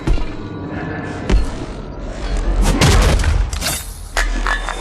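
Gunfire in the mobile shooter Apex Legends Mobile, heavy booming shots and thuds in bursts over a steady background hum, loudest in the middle and again near the end.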